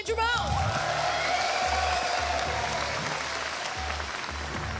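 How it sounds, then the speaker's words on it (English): A crowd at a GT World Series motor racing event in Montreal applauds loudly and steadily, with cheers and whoops mixed into the sustained clapping. "Let's give a big round of applause, Kylian Drummond."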